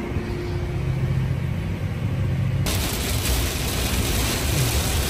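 Rain beats on the windshield of a combine harvester cab during a Kansas corn harvest, a steady hiss over a low engine rumble, thickening into a heavier wash of drops partway through.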